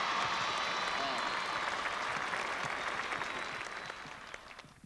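A crowd cheers and applauds for President Reagan, a dense, sustained wash of clapping and voices that holds steady, then begins to taper off at the end.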